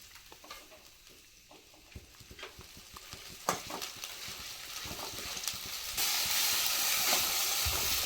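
Egg curry masala sautéing in oil in a pan for dhaba-style anda curry, with a close hiss, scraping stirs and spatula clinks, and the sizzle swelling louder toward the end, no talking.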